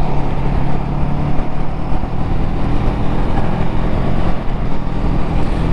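A 2022 Honda Rebel CMX500 motorcycle riding along a motorway, a loud, continuous engine drone blended with rushing wind and road noise, steady throughout with no voices.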